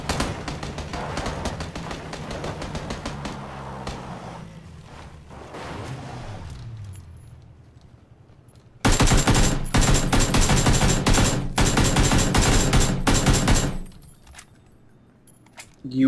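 Dense, loud bursts of rapid automatic gunfire from a PlayerUnknown's Battlegrounds match fill the second half. Earlier, vehicle engine noise and scattered game sounds run under quieter stretches.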